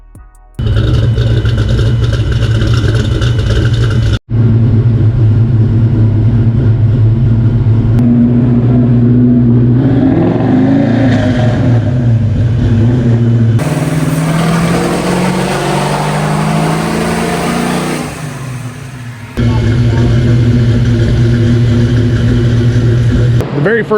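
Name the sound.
V8 car engine revving on dyno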